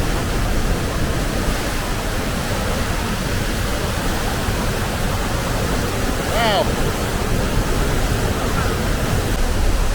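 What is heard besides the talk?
large waterfall roaring in Sweden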